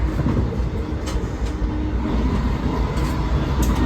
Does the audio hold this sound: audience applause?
no